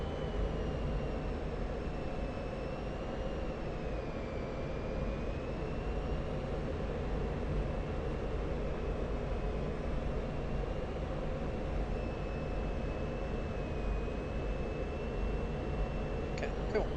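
An F-16 Viper fighter jet engine roars continuously at airshow practice, a dense, even rumble with a wavering high whine layered on top, sustained and close for the whole stretch without breaks or voices.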